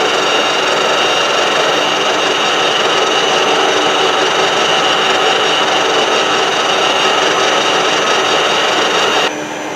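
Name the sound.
drill running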